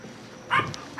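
A dog inside a house gives two short yelping barks, the second cut off at the end, over quiet room noise.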